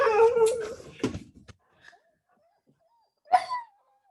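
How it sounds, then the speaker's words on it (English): A dog gives short whimpers and whines indoors, a cluster of soft cries followed by a pause and one more brief whine, faint and close, with a person speaking at the start. "That's Peppercorn, my dog."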